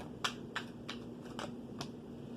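A large tarot card deck is shuffled by hand, giving five evenly spaced, crisp slapping clicks over a quiet room hum.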